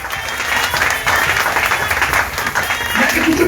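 A church congregation applauds loudly and steadily for several seconds, dense clapping with crowd noise and some voices mixed in throughout.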